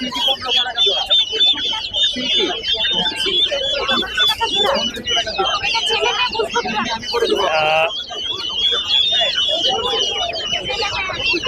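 Several chickens cluck and squawk close by at a bird market in Mirpur, Dhaka, in a busy, overlapping chorus, with a rooster-like call rising briefly partway through.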